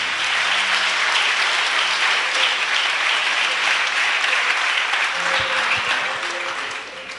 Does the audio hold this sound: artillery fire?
no